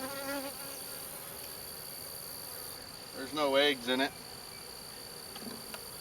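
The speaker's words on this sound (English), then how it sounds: "I see a group of bees right there." Honey bees buzz faintly around a hive frame in a broken-frame nuc, a soft continuous drone beneath a brief stretch of a man's speech.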